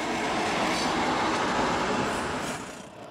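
A German double-deck regional train, a four-car consist, rolls past steadily and loudly with a continuous rail rumble, fading slightly toward the end.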